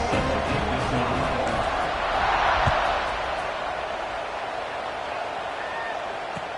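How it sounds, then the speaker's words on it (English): A football stadium crowd roars in a broad, continuous wash of cheering before kickoff, swelling briefly midway and then settling into a steady background din. "this crowd now ready to get behind them"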